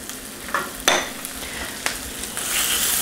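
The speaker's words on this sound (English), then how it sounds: "A little stir here." A spoon stirring homemade BBQ sauce with mustard in a pot, soft scraping and a few light clinks against the pot, quiet and close with no talking.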